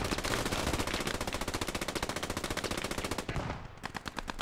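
A machine gun in the video game Post Scriptum fires a long, rapid, steady burst of closely spaced shots that keeps going for several seconds, loud and near, with no voices.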